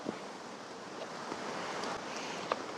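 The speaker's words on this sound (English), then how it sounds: "This wind keeps switching directions." Outdoors on a hunt, a steady wind rushes and buffets the microphone with a constant broadband roar and a few faint thumps, with no talking.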